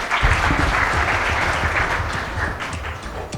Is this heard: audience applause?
yes